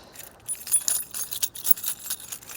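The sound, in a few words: car keys jangling in pocket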